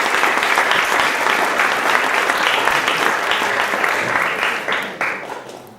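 An audience in a high school planetarium bursts into loud, sustained applause, dense clapping that carries on for several seconds before tapering off at the end.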